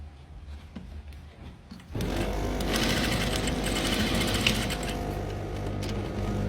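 A sewing machine stitches along the side of a fabric pocket, starting after a quieter stretch of small handling clicks and running steadily and fairly loudly up close for the rest of the clip.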